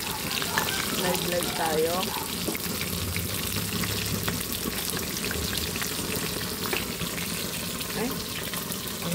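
Food frying in a home kitchen, a dense, steady crackling sizzle that fills the whole stretch, with a brief voice speaking over it early on.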